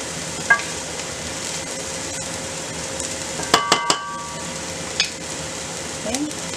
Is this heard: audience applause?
no